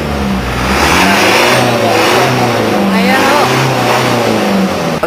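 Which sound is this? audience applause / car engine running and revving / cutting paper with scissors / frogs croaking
car engine running and revving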